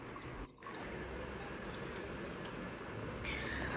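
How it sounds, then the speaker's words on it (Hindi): Water is poured into a pot to mix ragi flour for roti dough, a soft continuous trickling and splashing in a home kitchen, faint and steady with no talk. "उसमें एक कप पानी ऐड करेंगे, एक या डेढ़ कप"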